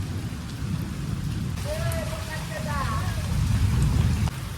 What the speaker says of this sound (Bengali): এখন অনেক জোরে বৃষ্টি হচ্ছে তো প্রচুর জোরে বৃষ্টি হচ্ছে